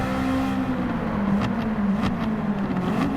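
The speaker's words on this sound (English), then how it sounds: "Oh my god, this car is loud!" A loud racing car engine at a 2022 Challenge Series motor race sounds as a sustained droning tone that rises and dips in pitch, with no commentary over it.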